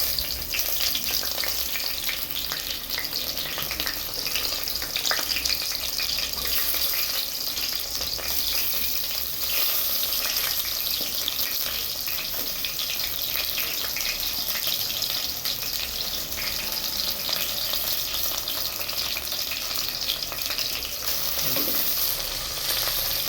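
Onions fry in hot oil for a carrot and pea dish, giving a steady, even crackling sizzle that carries on throughout at moderate volume, with no voices.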